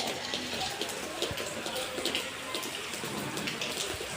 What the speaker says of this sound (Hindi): बाहर बारिश हो रही है भाई